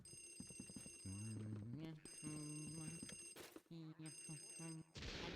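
In Luigi's Mansion, a telephone rings in repeated electronic trilling bursts with short gaps between them, fairly close and clear. Chime-like tones sit in the background, and a voice briefly talks near the start.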